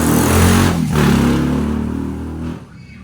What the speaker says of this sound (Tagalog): Sobrang ingay ang motor nila dito, hindi tulad sa probinsya.